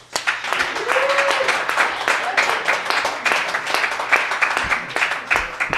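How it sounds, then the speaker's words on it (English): An audience claps at a poetry open mic in the Nitecap Coffee Bar, a lively run of close, sharp handclaps that rises quickly and keeps going with a faint voice beneath. "so clap your fucking hands"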